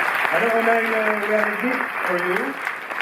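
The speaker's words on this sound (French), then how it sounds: "Applaudir" An audience at the Cinémathèque in Paris applauds at a film presentation, with clapping running beneath a voice that holds sustained, singing-like tones.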